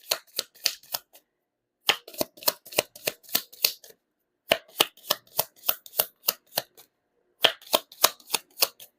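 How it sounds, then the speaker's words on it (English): Tarot cards being shuffled by hand, close, crisp riffling snaps in quick bursts of several flicks, separated by short silent pauses. "Let's pull up 3 more cards here."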